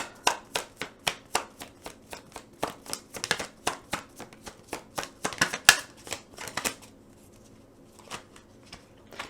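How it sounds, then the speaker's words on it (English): Tarot cards being shuffled and pulled by hand during a love reading, a rapid run of crisp riffling flicks and slaps, close and moderately loud, easing into a few sparser card snaps near the end with no talking. "So I'm going to pull the last card here for the top."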